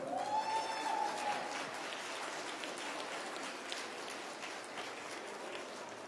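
Spectators clapping at an armwrestling tournament in Norway, an even, rain-like wash of applause from a moderate distance, with a brief whistle near the start.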